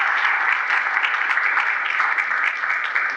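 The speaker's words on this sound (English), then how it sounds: "Let's give these guys a round of applause for" Conference audience gives a steady, close round of applause for panelists being welcomed on stage, dense even clapping sustained throughout with no talk over it.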